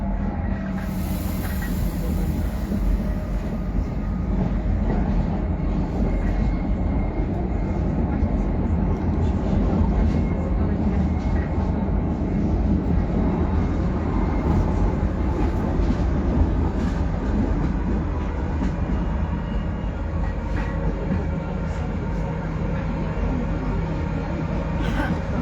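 Rumbling inside a moving metro train, a loud steady roar of wheels and carriage noise with faint rattles and squeals throughout.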